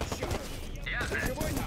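Gunfire in the video game Watch Dogs, heard as a rapid burst of automatic shots close up, with a voice speaking over part of it.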